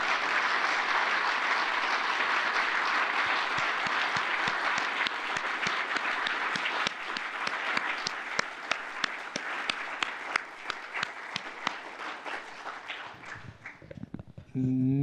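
Audience applause honoring veterans at a Veterans Day Medal of Honor ceremony, a dense sustained round of clapping from a large crowd that holds steady and then thins out toward the end.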